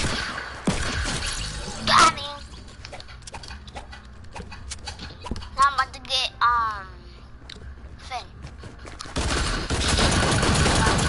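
Gunfire in a Call of Duty match, a busy mix of sharp shots and bursts scattered through the clip, with excited talk from players over and between them.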